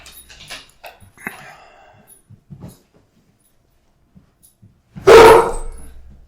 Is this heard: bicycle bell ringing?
no